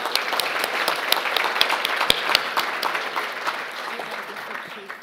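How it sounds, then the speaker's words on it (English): Audience at a training and education session clapping for a panel, a sustained wash of many hands with a few sharper individual claps standing out, steady then tapering slightly at the end. "let's have a round of applause for the panel"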